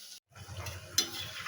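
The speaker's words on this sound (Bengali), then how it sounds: "এভাবে ভাজতে থাকি" Food frying in oil on a low-to-medium gas flame, a soft continuous bubbling sizzle with a brief pause early on and a sharper crackle as the pieces are stirred.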